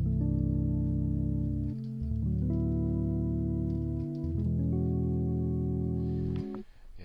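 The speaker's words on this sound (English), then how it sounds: "LazySnake Fender Rhodes by itself sounds like this." LazySnake Fender Rhodes electric piano VST played on its own, a series of sustained mellow chords shifting every couple of seconds, warm and steady with no other instruments.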